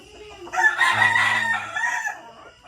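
A young perfection roundhead gamefowl stag crows once, loud and close, in a single drawn-out call that lasts about a second and a half, with quiet before and after.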